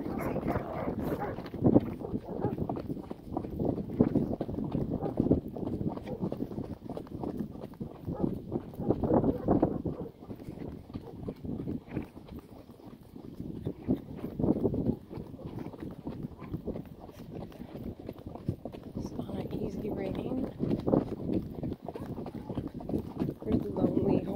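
Steady hoof clip-clops from a relaxed gaited horse moving in its gait, with wind buffeting the microphone and occasional voices speaking nearby.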